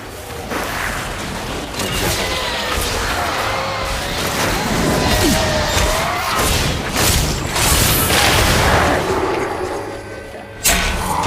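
Crusader's Falling Sword ability slamming down in Diablo III, a dense stretch of crashing, booming impacts and whooshes layered with game effects, loud and continuous, capped by a sharp final hit.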